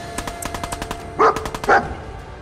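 A dog in the Fallout 4 video game barks in a rapid series of sharp yaps, with two louder, fuller barks standing out near the middle against a busy game soundscape.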